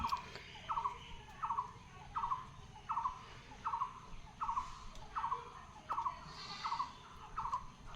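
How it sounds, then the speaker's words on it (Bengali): Village birds and poultry call in a steady series of about a dozen bright, squawking cries, roughly two per second, fairly close over a low murmur of background noise. "পাখিদের আওয়াজগুলো কীরকম শোনা যাচ্ছে দেখো।"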